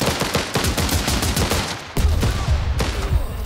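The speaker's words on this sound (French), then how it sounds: "Tirez, les gars, tirez, tirez," Dense gunfire in the war strategy game Last Train Home, rapid overlapping shots and bursts crackling loudly and continuously, with a brief lull before another volley.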